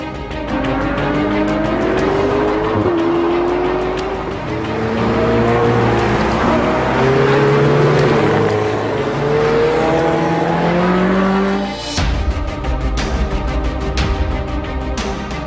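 Ferrari cars, including a 488 Pista, an Enzo and a 250 GT Berlinetta, driving a rally on Italian island roads near Palermo, Sicily; loud continuous engine roar with shifting revs and gear changes, and a sharp transient near the end.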